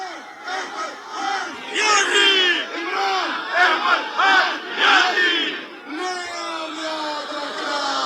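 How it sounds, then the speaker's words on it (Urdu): An evening political rally crowd in Chakdara chants slogans in loud rhythmic waves, massed voices rising and falling in repeated call-like bursts with a brief pause near the end. "اور یہ لوگ وہاں نعرے لگا رہے ہیں"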